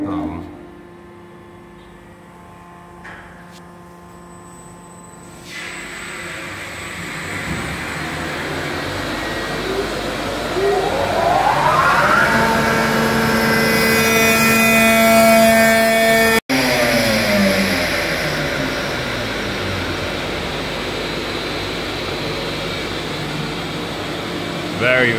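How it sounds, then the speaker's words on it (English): An industrial pump plant starts up during commissioning: a main motor spins up, its rising whine climbing steadily while the pilot pump keeps running underneath. The result is a loud, dense mechanical roar with harmonic tones, and a voice can be heard over it. "that pilot pump's still running"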